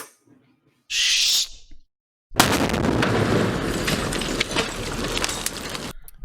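A thrown grenade goes off in a large explosion with splintering debris, a loud sustained blast and rumble lasting several seconds after a brief high whistle-like burst and a short gap of silence.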